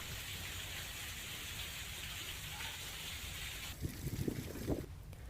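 Rain falls steadily across the Dhari, Sarsiya and Khokhra area of Gujarat as the pre-monsoon showers begin, a dense, even hiss that continues throughout, with a few brief low rumbles near the end.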